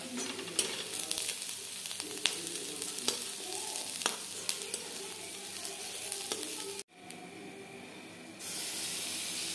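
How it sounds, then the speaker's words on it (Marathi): Grated coconut, garlic and ginger sauté with already-browned onion in a pan for a spicy misal, giving a steady close sizzle with scraping stirs for about seven seconds before a brief break and a softer, hissing tail. "आता ह्याच्यामध्ये खोबरं, लसूण आणि आलं आपण परतून घेऊया."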